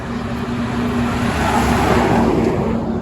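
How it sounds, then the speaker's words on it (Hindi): A truck speeds past on the Mumbai–Nagpur Samruddhi expressway, a steady, loud broadband roar of tyres and engine holding for the whole stretch with no voices. "और ये ट्रक वाले इतने भगा के आते हैं ना, आप देखो।"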